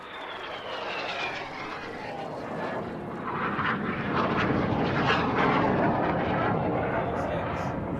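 Aerobatic display jets at the Duxford air show roar overhead in a broad, swelling rush that builds and stays loud toward the end, with public-address commentary running underneath.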